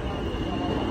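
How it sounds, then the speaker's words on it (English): A New York subway F train pulls into an express-track platform, a steady loud rumble and hum of wheels and cars with no clear voices. "Here is the F train, guys."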